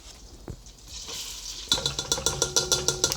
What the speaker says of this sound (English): So we're just gonna work that flour around the butter, get it all mixed together.